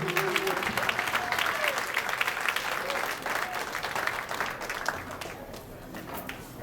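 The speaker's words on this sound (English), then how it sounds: "Let's give him another round of applause." Sustained audience applause follows a spoken word performance at a community education empowerment program event, steady and dense clapping from a sizable crowd fading slightly toward the end.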